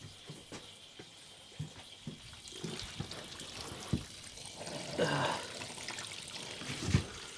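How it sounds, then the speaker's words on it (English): Coolant drains out of a Yamaha YZF R1 motorcycle radiator once the radiator cap is removed, a close, uneven trickle and splash that swells midway, with a voice talking over it. "so there's the coolant coming out now"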